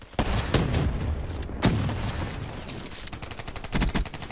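Rapid pistol gunfire in Call of Duty: Black Ops 3 rings out as a run of sharp, close shots, some spaced and some in quick bursts, over game background noise.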